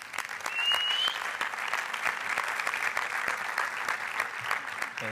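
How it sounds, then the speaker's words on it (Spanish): A large conference audience at a tech event applauds to welcome a speaker, with steady, full clapping that holds at an even level throughout. "Pablo, por favor, un fuerte aplauso."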